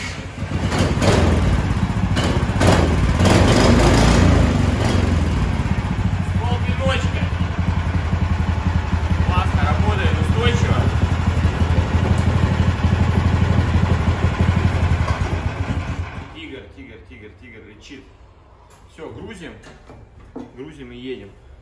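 A new PROMAX YAKUT 500 snowmobile engine starts for the first time on a snowy day and settles into a steady, loud idle for about fifteen seconds before cutting off, leaving quiet wind.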